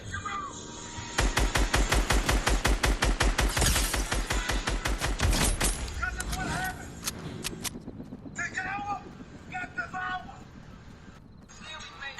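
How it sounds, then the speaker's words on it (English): Rapid, evenly spaced bursts of automatic gunfire in the video game Fortnite ring out loud and close for several seconds, then give way to quieter, scattered in-game sounds. "Somebody's shooting at me."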